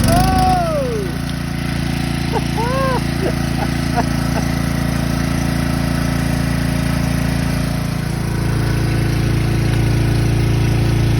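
A portable generator engine with a broken pull-start cord runs at a steady, loud idle close by. A few brief voices and whistles sound over it early on.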